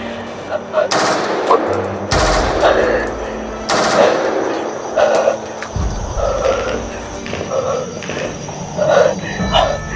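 Loud sniper gunshots crack sharply at irregular intervals, several sharp bangs over a steady background of insect-like buzzing.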